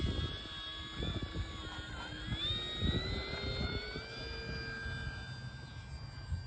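An E-flite P-47 electric RC model plane taking off, its motor whine rising in pitch and shifting as it speeds up and climbs away, moderately faint over wind and outdoor rumble.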